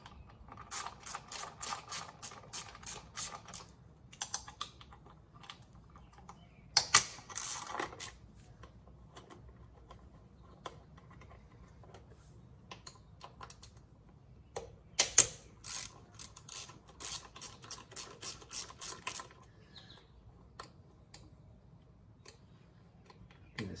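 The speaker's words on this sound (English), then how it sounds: "I've got a little ratchet here, 10mm. These are all bolts. So, let me just loosen them up." A small 10mm ratchet clicks in quick bursts while sprocket cover bolts are loosened on a 1974 Kawasaki Z1 900. The clicking is close and fairly quiet, in repeated runs separated by short pauses, with a few louder clanks between them.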